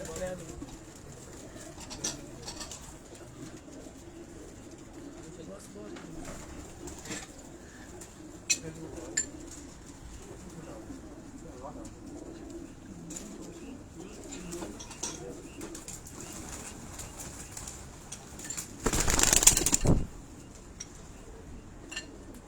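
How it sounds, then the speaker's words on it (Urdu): Soft khaki pigeon cooing murmurs through a quiet, noisy space, with faint chirps and a brief loud clatter near the end. "51 نمبر خاکی کبوتر ہے جی"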